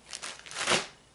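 A short burst of plastic bag crinkling, close up, a few quick rustles swelling and fading within about a second.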